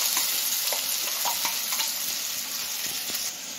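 Ground coconut paste hits a hot pan of Kerala chilli curry with kudampuli, giving a loud, close, continuous sizzle and crackle with some stirring scrapes, no talking.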